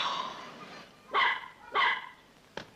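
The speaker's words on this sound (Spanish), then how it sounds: "¡Perro!" A small puppy at a beach resort gives three sharp, close barks spaced about half a second apart, the last one shorter, over a low murmur of background noise.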